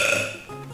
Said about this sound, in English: This is where I get my burping from.